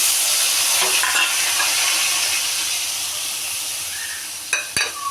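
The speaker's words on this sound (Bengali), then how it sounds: "মশলাগুলো কষায় নেব" Spice paste fries in a pan for a home-cooked lunch of fish, shrimp and greens, giving a steady broadband sizzle with a few soft stirring scrapes near the end.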